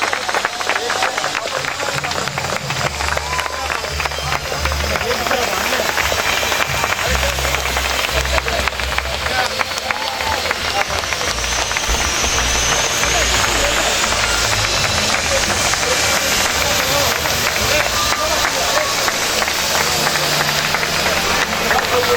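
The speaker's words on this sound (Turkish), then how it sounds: "Şöyle alkışlar kocaman bir şekilde gelsin efendim." Wedding guests clapping continuously for the couple, a dense sustained wash of applause layered over loud music and a low rumbling background, with talk mixed in.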